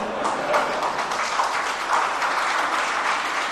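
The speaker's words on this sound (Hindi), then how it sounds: "क्या तालियां बजा रही?" A congregation claps during a Jain monk's Mangal Pravachan sermon, giving a sustained wash of applause at moderate volume that holds evenly for several seconds, with a faint murmur of voices beneath.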